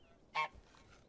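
A single short, nasal goose honk from a video game goose sounds once against quiet background, clear but fairly soft.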